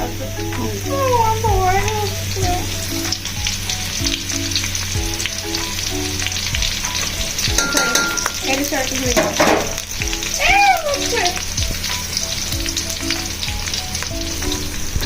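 Onions being added to a hot pan, sizzling steadily and fairly loudly throughout, with scattered clatter of stirring and a steady low hum underneath; a few brief bright tonal squeaks come through.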